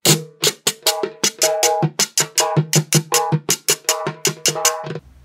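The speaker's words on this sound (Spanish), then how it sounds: "Entonces tenemos que el paseo suena así." Guacharaca scraper playing a vallenato paseo rhythm: quick, even rasping strokes in a lively repeating pattern, close and loud, played solo with no talking.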